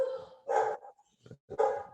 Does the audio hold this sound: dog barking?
yes